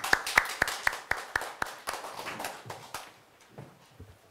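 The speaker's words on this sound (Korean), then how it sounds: "큰 박수 부탁드립니다." A handful of people clap at a university biodefense seminar, sparse and distinct at first, then blending into brief, thin applause that quickly dies away.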